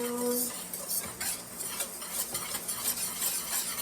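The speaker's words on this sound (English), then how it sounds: "And you just kind of whisk that around." Brown sugar and oats being whisked in a bowl for a pear crisp topping, a steady run of light scraping and tinkling utensil strokes against the bowl, close and continuous with no talking.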